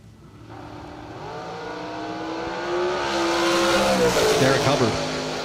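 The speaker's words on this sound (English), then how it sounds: "Last car down the track. Dragster out of Lake Mary, Florida." A dragster from Lake Mary, Florida, on a drag strip at a fall racing event, its engine note rising steadily as it runs, growing louder toward the end over crowd and announcer noise.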